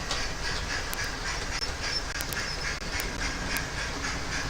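A model railway express train runs around a layout, producing a steady, close rolling rumble with faint rhythmic clicking of wheels over track joints and a few brief high squeaks.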